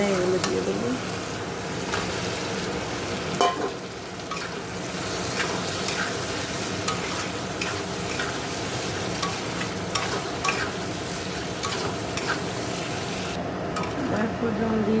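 Potatoes and pointed gourd fry in oily spice paste, a steady dense sizzle running throughout with occasional scrapes and clinks of stirring in the pan; no one speaks.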